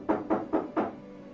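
Four firm knocks on a wooden door, the first three evenly spaced and the last after a slightly longer pause, close and clear in a quiet indoor room with no one speaking.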